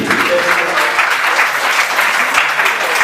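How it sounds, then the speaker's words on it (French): Steady, dense clapping from a wedding crowd as the mayor is received fills the whole stretch, loud and even without pauses. "On peut applaudir."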